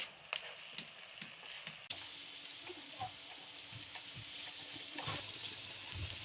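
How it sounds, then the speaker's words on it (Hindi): Onions browning in a pan for a restaurant-style tawa chicken karahi, a steady close sizzle and crackle of frying throughout, with a few clinks of stirring near the start. "प्याज को हमने अच्छी तरह से ब्राउन करना है।"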